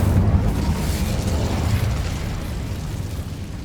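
Incendio fire spell cast in Hogwarts Legacy, a single loud roaring burst of flame that starts strong, then fades into a rumbling, crackling wash over a few seconds, with no voices.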